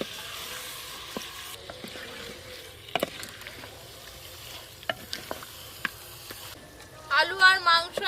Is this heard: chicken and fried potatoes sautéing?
yes